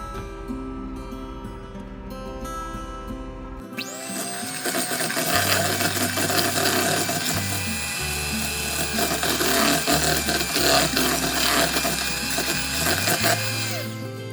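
An electric hand mixer beats two cups of sugar with one cup of oil for chocolate chip banana bread, starting abruptly after a few seconds of quiet clinking and then whirring steadily and loudly close by, with its tone shifting slightly as it churns.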